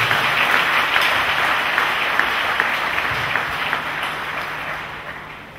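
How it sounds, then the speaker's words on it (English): A church congregation bursts into steady applause, broad crowd clapping that stays fairly even for several seconds before tapering off slightly. "Clap for Jesus Christ."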